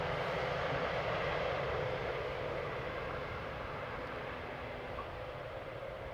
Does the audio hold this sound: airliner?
yes